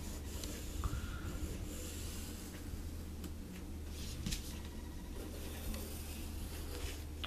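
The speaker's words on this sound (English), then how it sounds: "And then you're going to take your tracing pencil," A tracing pencil scratches around a cardboard stencil with quiet, intermittent scraping strokes under a low room hum, close and faint.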